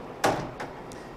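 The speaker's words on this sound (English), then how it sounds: "if we open up our door here" A CNC machining center's door slides open with one loud scraping rush, followed by two fainter brief movements, alone with no talking.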